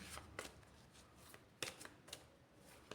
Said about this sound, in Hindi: तो कार्ड्स को शफल कर लेते हैं।